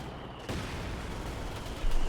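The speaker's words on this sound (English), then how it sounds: "More firing down here on Legend positions by the eastern victory point" Gunfire rattles from a World War II real-time strategy battle in Company of Heroes 2, a continuous volley of shots around the eastern victory point, moderately loud and sharpening near the end, with no one speaking.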